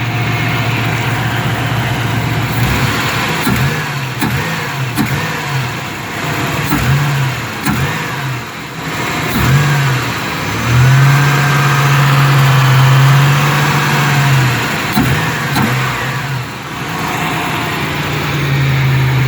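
A 1999 Chevrolet Malibu engine idles and revs repeatedly, with a deep muffler rumble swelling into a longer sustained rev near the middle, heard close and alone.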